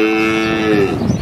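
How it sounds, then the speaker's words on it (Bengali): A cow in a Sundarbans village gives one long, loud, close moo with a steady tonal drone that slides downward and fades at the end. "গরুর হাম্বা হাম্বা ডাক।"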